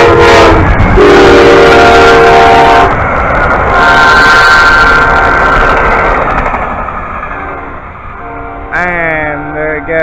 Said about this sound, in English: here comes another train. AMTRAK 89